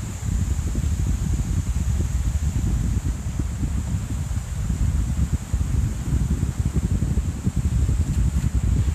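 Cold wind blows at Mt. Haguro in Yamagata, Japan, near an outfall among very old trees: a steady, close, rumbling gust with rustling and microphone buffeting, continuous throughout and no talk.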